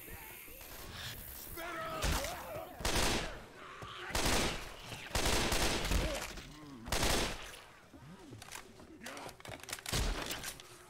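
Bursts of gunfire in the zombie shooter Left 4 Dead 2, including shotgun blasts, come in repeated loud volleys over roughly ten seconds, with players talking over the shooting.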